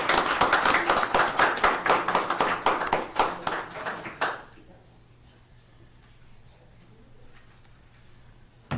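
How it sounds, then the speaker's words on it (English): Applause at a county commissioners court meeting: a small group claps in distinct rhythmic bursts for about four seconds, then it stops and quiet room noise follows. "let's give our HR folks a round of applause."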